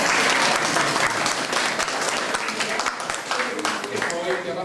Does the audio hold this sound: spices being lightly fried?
no